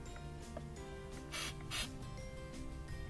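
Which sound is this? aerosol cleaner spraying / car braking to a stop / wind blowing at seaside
aerosol cleaner spraying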